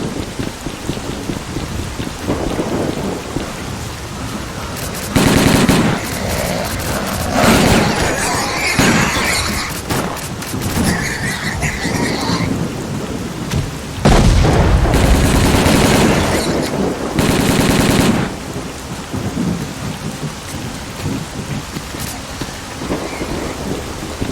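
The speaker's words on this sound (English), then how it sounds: "Fire at will." Gunfire in the shooter S.T.A.L.K.E.R. Call of Pripyat, loud crackling bursts of shots and heavy blasts coming in dense waves over a rumbling backdrop, with several sharp peaks spread across the stretch.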